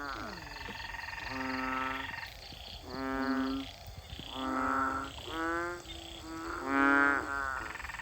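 Narrow-mouthed frogs calling at night, a series of loud, harmonic, bleating croaks repeating every second or so, several overlapping close by, with a faint insect hum behind.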